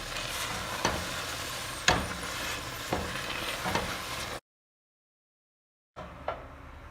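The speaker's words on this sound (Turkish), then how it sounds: "İyice suyunu çekene kadar kaynatmaya da devam edeceğiz." A thick pepper paste bubbles and sizzles as it simmers in a pot, with a few spoon scrapes, then a brief silence before the bubbling resumes.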